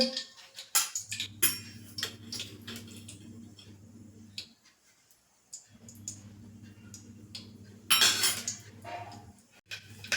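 Mustard seeds crackle in hot oil for Kathiyawadi dhaba-style masala khichdi, a run of sharp, irregular pops and clicks over a steady low hum, with a brief lull midway and a denser burst near the end.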